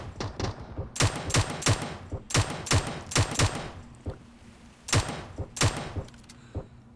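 Rapid bursts of automatic gunfire in the mobile battle-royale game PUBG Mobile, loud repeated volleys with short pauses, some shots sharper and closer than others.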